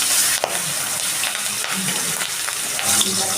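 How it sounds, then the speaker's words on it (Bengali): Rohu fish pieces fry in a hot wok, giving a continuous loud sizzle with a few sharp clicks and scrapes as the pieces are turned, close up and with no talk. "মাছটাকে আমি উল্টে পাল্টে ভালো করে ভেজে নিচ্ছি।"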